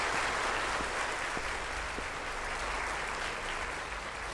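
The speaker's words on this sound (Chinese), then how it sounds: "现在就让我们用热烈的掌声欢迎秦总讲话" An audience gives warm, sustained applause to welcome a company head to the podium, an even wash of clapping with a few sharper claps standing out.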